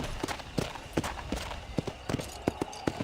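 Horse hooves clip-clop in Red Dead Redemption, a steady run of sharp, evenly spaced hoofbeats over about three seconds, fairly close and clear above a low game ambience, with no talking.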